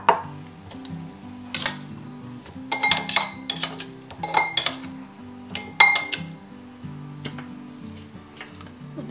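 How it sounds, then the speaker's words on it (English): Broccoli is spread in a layer across a metal baking sheet, giving scattered clinks and scrapes of the pan and utensil at close range in irregular bursts, with no voices. "And I kind of just spread my broccoli in a layer onto the baking sheet."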